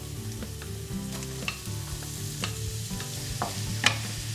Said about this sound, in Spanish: Empezamos por sofreír el ajo y cuando ya empiece a soltar un poquitín de olor le incorporamos la cebolla.